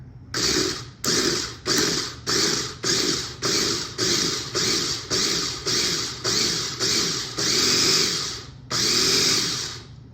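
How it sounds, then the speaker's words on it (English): A food processor pulses butter, sugar, salt and flour in a steady run of about a dozen short, loud, even bursts with brief gaps, then a longer buzzing run near the end. "I'm gonna pulse it until I get the butter incorporated, and then I'll speed it up on the food processing setting"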